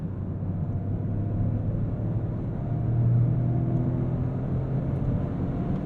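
Hot hatch exhaust rumble as a steady, moderately loud low drone that swells slightly midway, with no voices.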